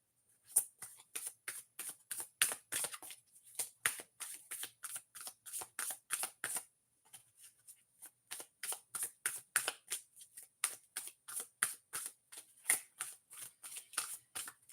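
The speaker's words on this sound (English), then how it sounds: "so I can stop shuffling." Cards riffle in quick, evenly spaced bursts, a crisp rhythmic shuffling close by, pausing once briefly before continuing.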